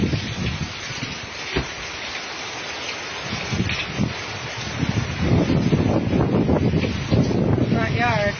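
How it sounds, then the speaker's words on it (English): Hurricane wind gusts roar and buffet the microphone outdoors in Orlando at night, with rain hissing beneath. The noise is loud and unsteady and swells toward the end, with a voice faintly underneath. "You can hear the wind blowing."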